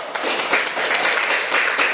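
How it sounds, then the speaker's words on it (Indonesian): Students in a classroom break into a short burst of steady, bright applause that lasts the full two seconds with no break. "tepuk tangan dulu"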